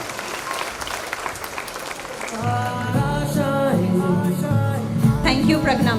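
Sustained audience applause at a certificate distribution ceremony, steady clapping that swells after a couple of seconds as music or tonal sound enters underneath, filling the hall.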